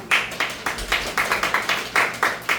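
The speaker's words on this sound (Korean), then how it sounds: "박수 한번 보내드리면 좋겠습니다" Applause at a press conference about a sitting judge's complaint, a small group clapping in loose rhythmic bursts, close and clear.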